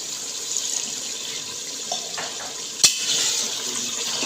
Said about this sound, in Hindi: अब इसके अंदर मैं आधा गिलास पानी का डाल दूँगी।